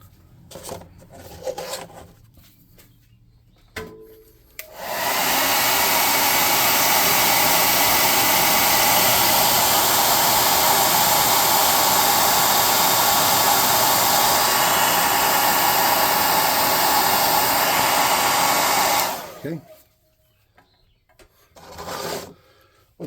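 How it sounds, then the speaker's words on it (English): Compressed-air gun blasting to dry thinned paint on model terrain trees, a loud steady hiss lasting about fifteen seconds, bracketed by quiet handling noises before and after. "We're going to hit them with the air gun real quick before we set them off to the side"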